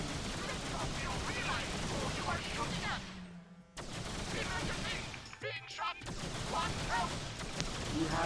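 Weapon fire in the space game X3 Farnham's Legacy, dense continuous rapid shots and blasts that cut out briefly twice before resuming, with a voice speaking over the barrage.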